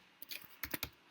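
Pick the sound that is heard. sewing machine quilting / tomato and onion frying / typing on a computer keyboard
typing on a computer keyboard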